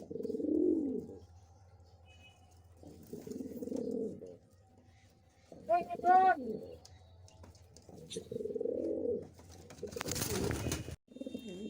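Racing pigeons in a keeper's loft give repeated low cooing bouts separated by short pauses, with a brief voice in the middle and a burst of rustling noise near the end.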